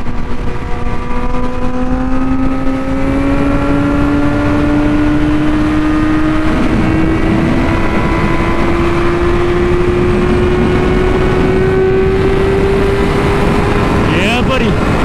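A Yamaha R6 motorcycle cruises on a highway, its engine holding a steady high whine that slowly climbs in pitch under constant loud wind rush.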